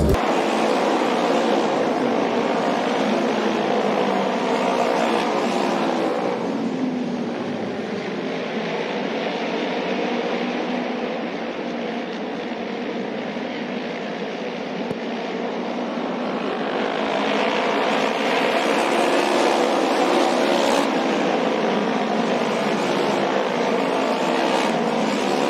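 Motorcycles race in the rain at the Kawaguchi auto race track, a continuous loud engine roar rising and falling as the pack sweeps past, with no talk.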